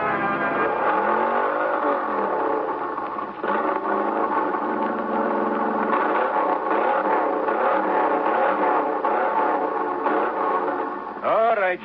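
A boat engine opened up to full throttle as a radio drama sound effect, a loud continuous droning roar with wavering pitch throughout, briefly interrupted and then resuming, with voices speaking over it.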